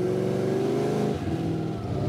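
A car engine climbs steadily in pitch under hard acceleration, loud and close, then eases back after about a second as the revs drop and the tone shifts.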